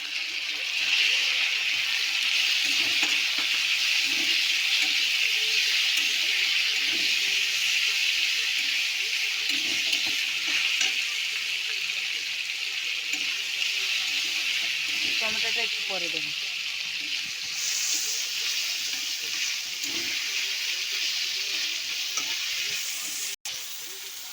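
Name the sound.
chopped onion frying in oil for potol curry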